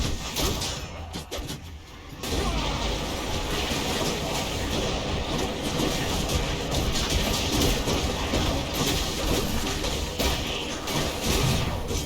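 Explosion and combat effects in the action game Hades, a loud, dense burst of crashing game sound that fills the whole stretch with thumps and impacts, with no talk over it.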